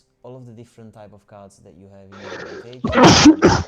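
A single loud, sharp human sneeze with a quick double burst, coming right after calm speech.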